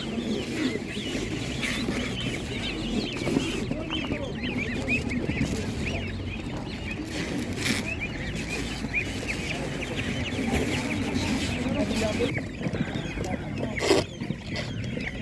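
Busy outdoor bustle at an animal market with chickens, ducks and other fowl clucking and chirping continuously, a dense layer of bird calls filling the whole stretch.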